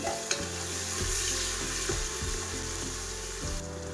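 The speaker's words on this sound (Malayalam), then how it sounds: "ഒരു കഷ്ണം ബിരിയാണി ലീവ്സ് ഇട്ടിട്ട് 2 മീഡിയം സൈസ് ഉള്ളി ചെറുതായിട്ട് കട്ടാക്കിയിട്ട് ഇട്ട് കൊടുത്ത് 1 സ്പൂൺ കല്ലുപ്പ് ഇട്ടിട്ട് നല്ലോണം മിക്സാക്കി" Chopped onions with a bay leaf and rock salt sizzle and fry in a pan while being stirred, with regular scraping strokes over a steady close sizzle and no talking.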